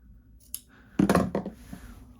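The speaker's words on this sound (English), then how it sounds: "when you're trimming it, you're going to trim in line with that row of stitching that you sewed" Scissors trimming fabric along the seam stitching of a shirt, making a short cluster of close crisp snips after a single light click.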